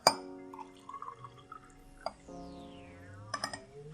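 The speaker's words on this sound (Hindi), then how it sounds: "इस बीट कवास में बाकी हम पानी मिलाएंगे" Water is poured into a glass of homemade fermented beet kvass, with a clink at the start, a brief liquid splash and a rising fill tone, then more clinks near the end, quiet and close.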